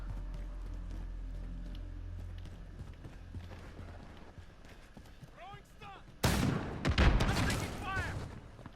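Gunfire in a 2v2 Modern Warfare match, a sudden loud burst of rapid shots followed by more firing and clatter, with game effects and a player's voice talking.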